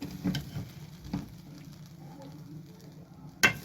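A spoon stirs through cooked mutton biryani in a pot after the flame has been turned off, giving soft scraping and rustling strokes, a few thumps and one sharp clink, close and fairly quiet.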